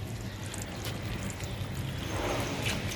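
Water is poured steadily onto potted plants, a continuous splashing trickle that grows slightly louder toward the end, with no voices.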